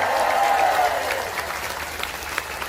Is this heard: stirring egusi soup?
no